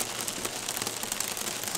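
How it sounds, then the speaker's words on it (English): Hail and icy rain drum on a boat, a dense, continuous patter of small hard impacts, close and fairly loud throughout. "that's really loud rain. And it's ice. It's hailing."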